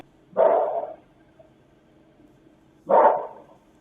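A dog gives two single barks about two and a half seconds apart, moderately loud against a quiet background.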